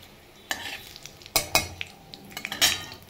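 Pointed gourd fries with cinnamon and bay leaf in a pan, a soft sizzle under sharp metal spatula scrapes and clanks in irregular strokes.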